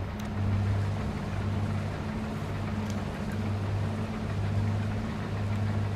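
A combine harvester in the Farming Simulator 23 video game drives along with its header disengaged, giving a steady low engine drone that holds constant throughout.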